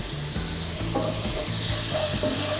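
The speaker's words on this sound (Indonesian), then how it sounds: "tumis terus sampai bumbunya agak mateng" Ground spice paste with bay leaf, lemongrass and crushed galangal frying in oil in a pan, a continuous close sizzle with faint scraping as it is stirred, no one talking.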